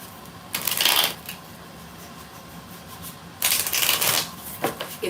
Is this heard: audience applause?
no